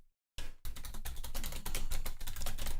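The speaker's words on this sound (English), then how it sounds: "it's not like you can hear my password from typing in that stuff" Rapid keystrokes on a computer keyboard during an Idle Heroes game session, a steady run of close, crisp clicks after a brief silence, with no voices.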